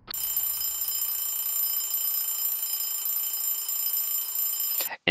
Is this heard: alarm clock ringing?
yes